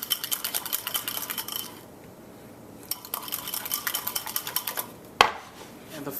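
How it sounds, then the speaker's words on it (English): A whisk beats coleslaw dressing in a bowl with fast, rhythmic metallic clicks against the sides. It pauses briefly, then resumes, with one sharper knock near the end, all close up and without talk. "Just whisk it all together like that, nice and smooth."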